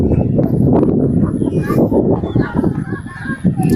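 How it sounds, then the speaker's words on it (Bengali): Hundreds of wild ruddy shelducks over a haor wetland give a dense, continuous chorus of honking and cackling calls, loud and overlapping throughout. "এই যে কি সুন্দর রাজা হাঁস, শত শত রাজা হাঁস।"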